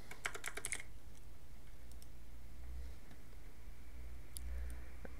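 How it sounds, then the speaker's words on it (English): Quick bursts of keystrokes on a computer keyboard as a Windows search entry is typed, a short flurry of close clicks at the start and a few scattered taps later, with no talking over them. "click here and type Device Manager"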